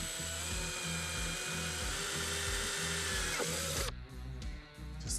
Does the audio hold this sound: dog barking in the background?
no